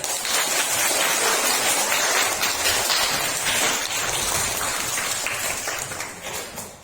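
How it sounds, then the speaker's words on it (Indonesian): Schoolchildren in a classroom clap their hands together in a dense, steady patter that runs for several seconds and eases off at the end, fairly close and without talk. "Tepuk tangan dulu"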